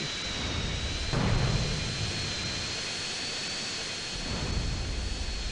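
A fighter jet in the mobile game GTA San Andreas makes a steady engine roar with a high whine, swelling briefly twice, with no talking.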